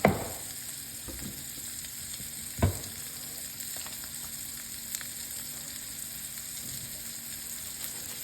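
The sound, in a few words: steak searing in a pan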